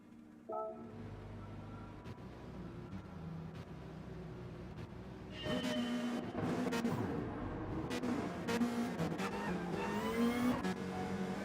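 GT500 race cars pull out of the pits at Suzuka in a racing video game. Engines rev and build in a steady rising drone that grows louder after a quieter start, with several cars overlapping.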